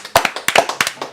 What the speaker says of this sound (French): On peut applaudir Mr Page